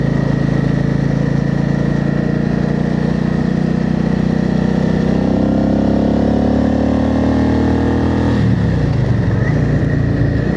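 A motorcycle riding along a Hungarian national road, a loud steady engine drone with strong wind rush that rises in pitch as it accelerates, then briefly dips and climbs again near the end.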